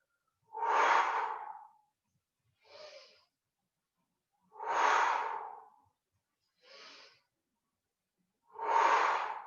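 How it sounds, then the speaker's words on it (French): Breathing exercise during stretching: slow alternating exhales and inhales, three longer, louder breaths out separated by two shorter, fainter breaths in, close-miked and isolated with silence between. "Expire, inspire."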